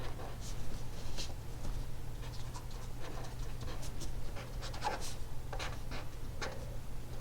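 Marker or chalk strokes on a board come as short scratchy bursts, irregular and close, over a low steady hum.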